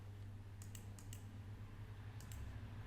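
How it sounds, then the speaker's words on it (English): Keys tapped on a computer keyboard as a playlist title is entered, a few short quick clusters of soft clicks over a faint steady hum, recorded close and quiet. "type the title of your playlist"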